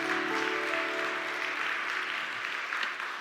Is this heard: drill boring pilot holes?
no